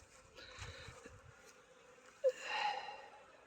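Bees buzz softly around their hives in a cold April, a faint insect drone with a short squeak partway through, and no talking.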